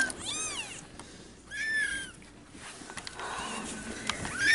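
Kittens meow indoors in several high, wavering cries, spaced apart with quiet pauses between them.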